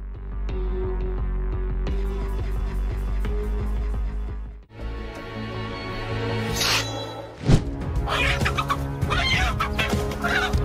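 A hen clucks loudly and agitatedly over a busy, noisy background while defending her chicks against a bird of prey, with sharp squawks and flurries of commotion partway through.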